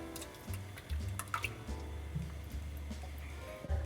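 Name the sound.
pouring second can of coconut milk into soup pot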